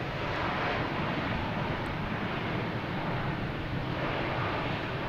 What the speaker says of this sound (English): Takeoff and landing in the same frame.